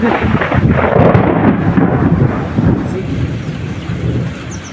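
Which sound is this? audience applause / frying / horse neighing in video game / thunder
thunder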